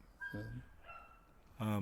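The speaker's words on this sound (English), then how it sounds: "Is that your dog in the background?" A dog barks a couple of short, clear yaps in the background of a podcast conversation recording, spaced about a second apart and moderately loud.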